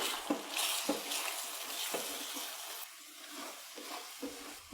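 Egg being stirred and fried in a pan, heard as soft sizzling broken by several scraping stirs at irregular intervals, fairly quiet and close with no voices.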